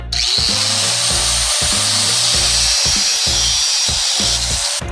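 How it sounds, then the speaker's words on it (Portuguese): Up close, an angle grinder cuts through metal lampshade rings in a loud, continuous high whine. The motor pitch dips rhythmically several times as the disc bites into the metal. "eu vou cortar agora com a esmerilhadeira"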